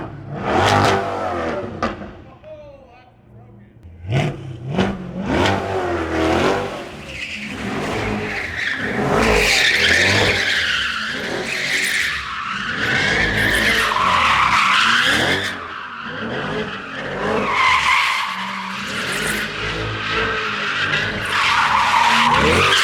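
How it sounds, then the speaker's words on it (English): A Chevrolet Corvette C8 doing donuts, its tires skidding and squealing continuously while the engine revs loud and close, rising and falling as the car swings around. "Just you wrap a wheelie up while Vinny cuts donuts around you."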